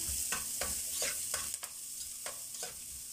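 Ginger going into a pot of red lugaw, sizzling in the hot pan while a spoon scrapes and stirs in a steady rhythm of distinct strokes, close and clear with no talking.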